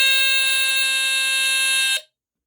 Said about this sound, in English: Yep, sounds in the standard squealer horn tone.